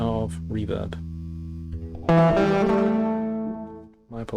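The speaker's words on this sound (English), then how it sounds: "let's add a little bit of reverb." A distorted electric guitar chord through an Electro Kittie distortion pedal with added reverb rings out loud and sustained, decaying with a lingering reverb tail, after a few short plucked notes and brief speech.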